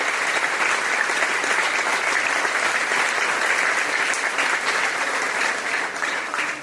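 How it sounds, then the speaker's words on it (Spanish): A congregation at a church service applauds loudly and continuously, a dense crowd clapping that holds steady and then starts to fade at the end. "Fuertes aplausos al Rey de Reyes y Señor de Señores."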